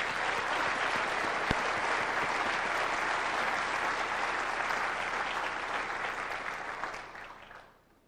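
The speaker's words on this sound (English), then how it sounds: "we should give him a round of applause" Audience applause at a Turing lecture, a full, steady round of clapping from a large hall that stays even for several seconds, then tapers off and fades out at the end.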